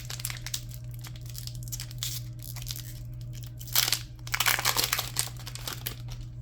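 A Pokémon card pack wrapper is torn open close up, with loud crinkling and ripping that grows into a burst of crackles near the end, over a steady low hum.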